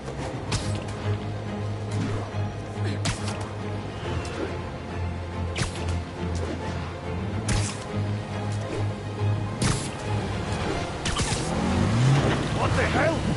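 Car engine in the Spider-Man PS4 video game, a steady low drone with revving swells and whooshes as the vehicle moves, heard under game dialogue and music.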